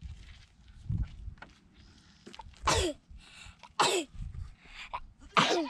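Several sharp sneezes burst out one after another, close and loud, with quiet rustling and soft movement in between.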